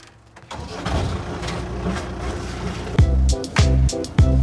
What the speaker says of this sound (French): ce qui est normal, le moteur tourne à bas régime